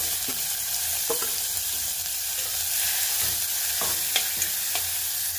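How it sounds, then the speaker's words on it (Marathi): Onion stir-fried in a pan after browned garlic, a loud, steady sizzling hiss close by, broken by a few sharp spatula scrapes and taps against the pan. "कांदा तुम्हाला लाल होईपर्यंत व्यवस्थित परतून घ्यायचंय।"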